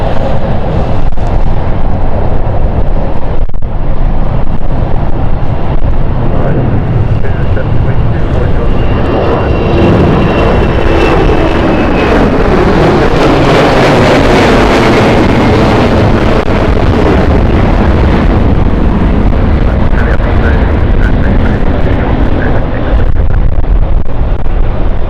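A plane lands in a crosswind at London City Airport, its jet engine roar swelling loud and then fading across the clip, mixed with heavy wind rumble on the microphone while people talk over it.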